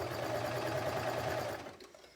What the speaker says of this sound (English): now it's sewing around just fine with my 2 threads